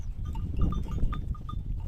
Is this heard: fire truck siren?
no